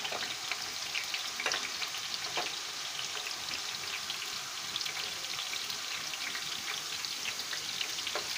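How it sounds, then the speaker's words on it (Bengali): Steady crackling sizzle of potatoes frying in hot oil in a wok, a dense even hiss with scattered louder pops throughout, close and alone with no voices. "কড়াইতে তেল গরম হয়ে গিয়েছে, এবার মেবি ওরা আলু ভেজে নেবে।"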